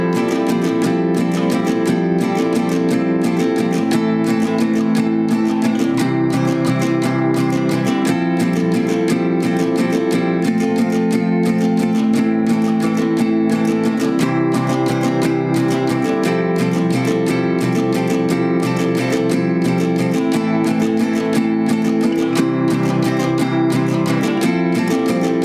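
Acoustic guitar strumming the second verse of a song, a steady, loud, continuous chord pattern with regular strokes and shifting chords, played alone without voice.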